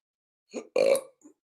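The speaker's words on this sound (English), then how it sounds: "I burped" A single short burp, close and fairly loud, made of two quick voiced bursts with a faint tail, heard alone.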